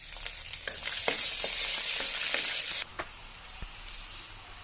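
Ginger, garlic and green chillies sauté in oil with cumin and fennel, a loud bright hiss that runs steadily, then drops suddenly to a quieter sizzle, with spoon scrapes and taps along the way.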